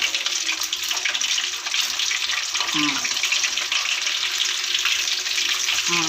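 Fish curry simmers in a pan with a steady broadband sizzle and bubbling hiss throughout, joined by brief clinks of utensils near the middle and end.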